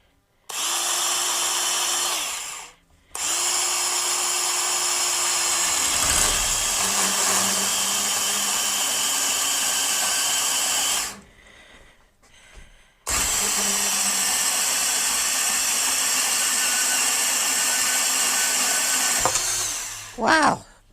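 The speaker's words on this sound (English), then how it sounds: "I get to use my other tool, my cordless bandsaw." A cordless bandsaw cuts through metal tubing in a home shed, with bursts of steady whining motor and blade noise that stop and restart, a short pause between cuts and a loud final run.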